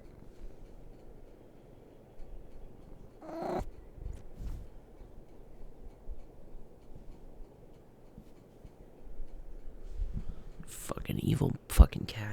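A cat meows in a couple of short, close calls in an otherwise quiet room, followed near the end by a loud burst of clattering handling noise.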